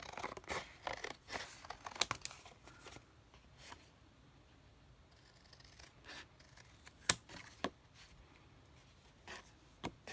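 Scissors snip through paper while making a lace and thread card, a close series of crisp, irregular cuts with quiet pauses between.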